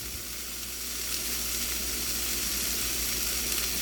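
Chicken breast sizzling in a cast iron pan, a loud, dense and continuous hiss of hot fat that holds steady close up, with no voices over it.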